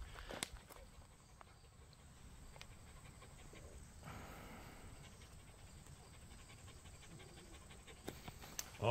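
Tired dogs pant softly and rhythmically at a distance, with light footsteps shuffling and a few brief knocks in the background.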